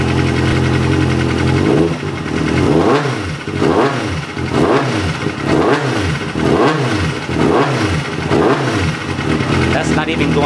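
A 2007 Kawasaki ZX6R motorcycle engine revs close by in quick, regular bursts, each blip rising and falling in a loud repeating rhythm over a steady idle.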